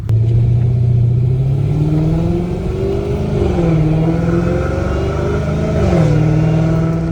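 A loud, deep supercharged Dodge Challenger Hellcat Redeye engine in a video game revs and drops repeatedly, its pitch rising and falling in smooth sweeps, with a rough rumbling tone and supercharger whine throughout and no talking.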